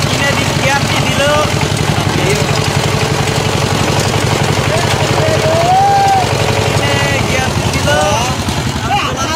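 Power tiller engine running steadily and loudly throughout, a dense rhythmic mechanical chug close by with people talking over it.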